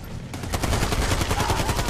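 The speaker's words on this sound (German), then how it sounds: "Zack, und jetzt wird einfach geballert." Rapid automatic gunfire in Army of Two: The Devil's Cartel, a dense, loud, continuous burst of shots after a grenade is thrown, with no voices over it.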